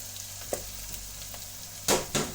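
Very finely chopped potatoes fry in a pan with a steady close sizzle, broken by a few soft scraping stirs and two louder utensil strokes near the end.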